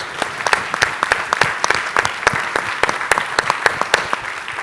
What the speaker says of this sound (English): Could you all give, please, Stephen and Sahia a round of applause?